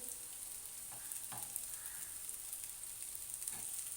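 Cabbage kababs fry gently on low heat, giving a soft, continuous sizzle with faint crackles and a few light taps, quiet and steady throughout.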